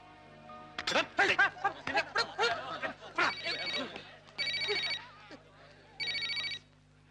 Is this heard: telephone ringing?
yes